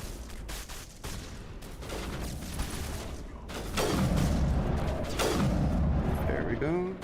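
Bursts of gunfire and heavy booms in Mass Effect, shots rattling through the scene and swelling louder in the second half, with someone talking over the combat.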